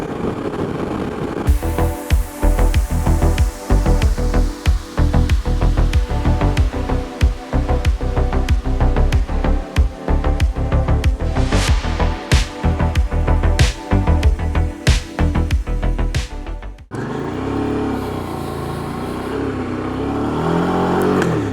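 A motorcycle engine revs and pulls hard on a ride through Romania's Dobruja region, rising and dropping through gear changes with loud, continuous roaring, then settles into a steadier drone.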